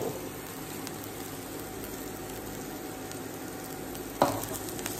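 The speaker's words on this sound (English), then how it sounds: "I will add in crushed and washed curry leaves, frying it to this." Steady, soft sizzling of crushed curry leaves frying in hot oil, a continuous crackle with one brief louder clatter near the end.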